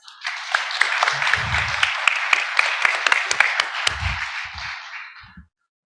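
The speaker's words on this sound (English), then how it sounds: "Let's take a round of applause for our 2 candidates." Applause from the audience at a Democratic primary debate for a state Senate district, cheering the two candidates; a crowd of hands claps steadily with a few sharp individual claps, low rumbles mixed in, then cuts off abruptly.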